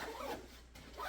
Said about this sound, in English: I can put it in between those two things and zip this bad boy up